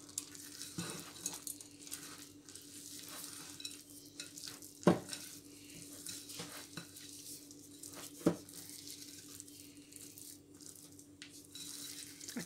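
Chocolate chips are stirred into cookie dough for homemade ice cream, soft irregular scraping and thick stirring sounds with two sharper knocks, quiet and close, no talking.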